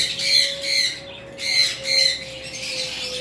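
A pair of yellow-sided pineapple conures gives loud, shrill squawks close to the microphone in four quick bursts, over a steady faint hum.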